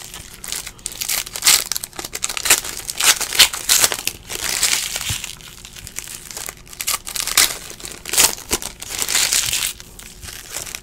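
Foil packs of 2017 Optic baseball trading cards being ripped open close up, repeated loud crinkling and tearing bursts in an uneven rhythm, with no talk.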